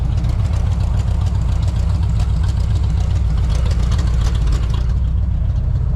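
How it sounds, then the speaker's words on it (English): A car engine with a Rochester Quadrajet four-barrel carburetor, its idle screw turned all the way up, idles steadily and loudly up close, a constant low rumble with a faint ticking rattle on top and no pauses. "she sounds like she's idling really good"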